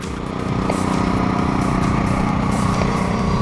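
Twin outboard engines on a fishing boat in the Florida Keys drone steadily and loudly, holding an even rumble with no talk over it.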